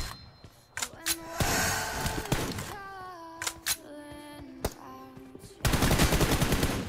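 Gunshots crack in a 1v1 team deathmatch video game fight, scattered single shots mixed with sliding in-game tones, ending in a dense rapid burst of fire; a voice is faintly present.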